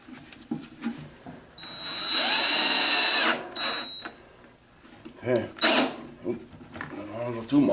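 A drill fitted with a Vix bit spins up to start a centered screw hole while drawer rails are fitted to a desk, a loud whine of about two seconds followed by a shorter burst, with speech before and after.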